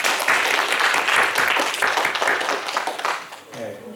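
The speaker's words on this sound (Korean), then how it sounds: "박수로 한번 격려할까요?" Congregation applause fills a church service, a dense steady clapping from many people that holds loud for several seconds and then thins and fades near the end.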